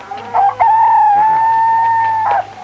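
A rooster crows near a chicken coop at dawn, one long loud sustained call rising and holding steady for about two seconds before breaking off, with no talk over it.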